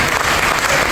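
A church congregation applauds loudly at a pastor's consecration service, a dense, steady wash of many hands clapping together, close and full for the whole moment.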